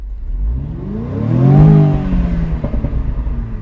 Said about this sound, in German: Klingt für einen 4-Zylinder schon ganz vernünftig, ne?